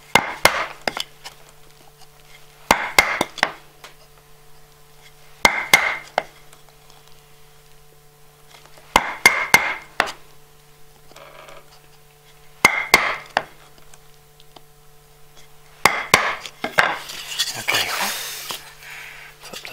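Mallet strikes on a screwdriver used as a chisel, chopping dovetail waste from a wooden board, in tight bursts of three or four sharp close taps separated by pauses.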